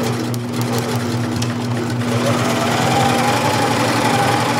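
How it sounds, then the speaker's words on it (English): A sewing machine stitches a handwoven tote bag in a fast, continuous mechanical whir with a steady hum, loud and close, with no talking over it. "right now I'm going to do some sewing"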